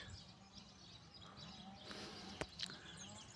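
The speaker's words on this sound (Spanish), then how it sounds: "Pajaritos." Small birds chirp faintly in foggy mountain countryside at Montserrat, with a few brief, distant calls over a soft, quiet outdoor background.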